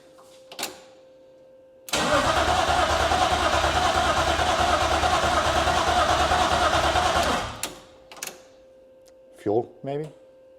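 A BMW E36 race car engine cranks steadily for about five seconds on its very first start attempt without catching, a loud continuous whir, followed by brief clicks and short bursts of nearby voices.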